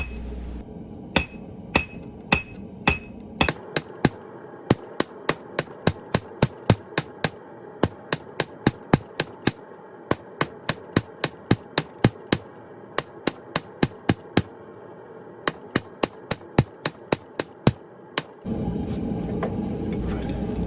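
A blacksmith's hammer strikes metal while forging a wall hook, dozens of sharp ringing blows in a steady, fast rhythm with brief pauses, loud and close, ending in a louder rumbling noise.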